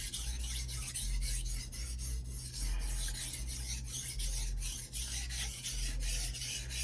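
A ZDP-189 core steel Bunka knife is pushed across a Suehiro 1000/6000 grit combination whetstone, giving a continuous close gritty rasping in steady rhythmic strokes.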